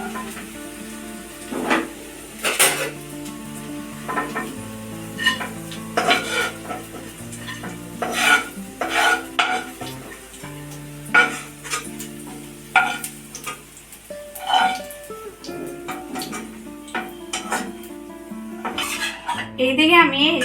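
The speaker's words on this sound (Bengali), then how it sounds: "এবার আমি গ্যাসটা অফ করে এটা একটা প্লেটে তুলে দিচ্ছি।" Fried paneer kofta being lifted from a pan onto a plate, with spoon scrapes and clinks over a fading sizzle, while a voice talks through much of it.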